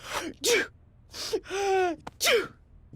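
A woman's sneeze, a single sharp burst with a quick preceding gasp, heard close amid surrounding voices in a home setting.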